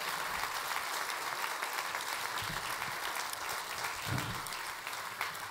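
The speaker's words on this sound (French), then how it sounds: "je voudrais que vous applaudissiez vraiment toute l'équipe technique, toute l'équipe de Mennecy" A political speech audience in Mennecy applauds the technical team with steady, dense clapping held at a constant level for the whole stretch, a crowd filling the hall with no voice on top.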